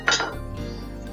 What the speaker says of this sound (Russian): Обыкновенная посуда для микроволновки.